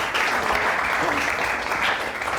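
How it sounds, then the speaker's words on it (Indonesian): A classroom group claps together in a brief, even burst of applause at close range, steady for a little over two seconds. "Tepuk tangan dulu dong, Bu."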